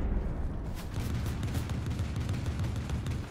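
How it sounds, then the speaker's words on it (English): Muffled gunfire behind a wall in the video game Fortnite, a steady stream of thudding shots and booms that runs throughout and stays fairly loud without fading. "Sounds like there are shots behind this wall."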